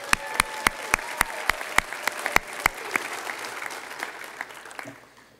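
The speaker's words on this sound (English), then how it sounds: "A big round of applause for Brandon Mayberry." An audience at a Winter Dream Team sports awards event applauds a high school three-sport athlete. Sharp, evenly spaced claps rise above a softer crowd patter, then thin out and fade near the end.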